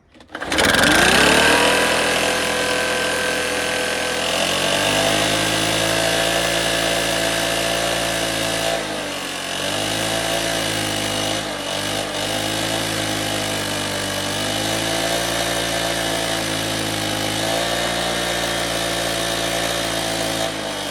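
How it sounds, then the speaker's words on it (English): A Stihl BR 600 backpack blower runs with its spark screen removed, its carburetor not yet fully tuned: a loud, close, continuous two-stroke whine that starts abruptly, holds steady and wavers slightly in pitch, with no talk. "I'm gonna run it with the spark screen out for a little while here"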